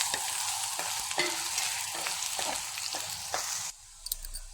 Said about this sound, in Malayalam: കടുക് പൊട്ടിക്കഴിയുമ്പോൾ അതിലേക്ക് ഉള്ളിയും വറ്റൽമുളകും അരിഞ്ഞത് ഇട്ട് കൊടുക്കാം.